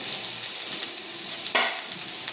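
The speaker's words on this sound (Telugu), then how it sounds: "దీనిలోకి మనం ముందుగా కట్ చేసి పెట్టుకున్న ఆనియన్స్ అవన్నీ కూడా వేసేస్తున్నాను" Chopped onions tossed into a hot oiled pan for prawn curry: a bright crackling sizzle with stirring scrapes, and a sharp surge of frying noise as more goes in midway.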